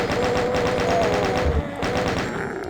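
Doom 2 chaingun fire in rapid, steady bursts, a loud continuous stream of shots with a brief gap before it resumes.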